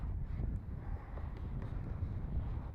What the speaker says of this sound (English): Got a little bit of wind.